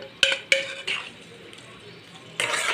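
Chicken being stirred in a metal pan: two sharp clinks of a spoon against the pan, a softer scrape, then a brief sizzling burst of stirring, close and fairly quiet.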